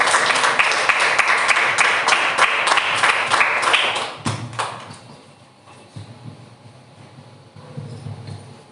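A congregation claps their hands together in praise during a Sunday family church service: dense, rhythmic applause for about four seconds, then it dies away into quieter room murmur.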